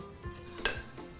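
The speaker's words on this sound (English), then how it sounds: "So we're going to whisk that just a little." Dry ingredients with baking powder are whisked briefly in a bowl for a chocolate orangette bake, giving a few faint, quiet metallic clinks and scrapes.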